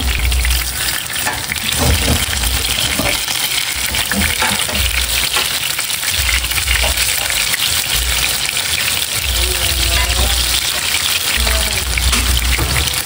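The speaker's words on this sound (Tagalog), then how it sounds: "ako po ay magpiprito na itong mga bulinaw" Bolinao fish fry in hot oil in a pan, giving a loud, steady sizzle with crackling and bubbling that runs for about thirteen seconds, close up and with no talking.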